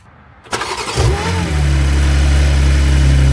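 A BMW M4 G82 starts after its ECU is refitted, a sharp crank and loud rev that settles into a steady, close, deep idle with a constant low drone.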